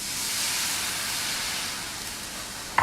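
Water hits a hot pan holding meat drippings in a kitchen, giving a steady, close, broadband hiss of sizzling steam that holds evenly for nearly three seconds before a brief clink near the end.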